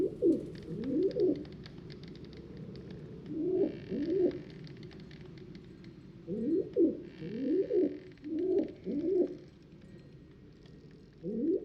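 Pigeon cooing in the Anna's Quest video game: repeated soft, low coos in clusters of two or three, with pauses between, alone over a faint background hum.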